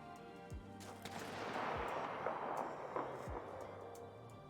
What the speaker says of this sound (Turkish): Silah sesleri falan geliyor.